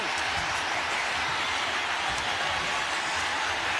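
A large arena crowd at Ariake Arena cheers for kickboxer Takeru after a TKO, forming a steady, dense, loud roar of voices and applause that continues without a break.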